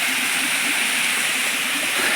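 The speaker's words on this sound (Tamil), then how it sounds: "இது ஒரு சின்ன வாட்டர் ஃபால்ஸு," A small waterfall on a hill-country bike trip rushes in a constant, loud, close wash of falling water, steady throughout with no voices.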